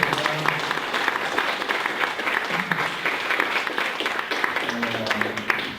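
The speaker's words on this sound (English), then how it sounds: "let's give Ann Hanson a big round of applause" An engaged crowd applauds after a talk on using color, with sustained, fairly loud clapping and a few voices murmuring underneath throughout.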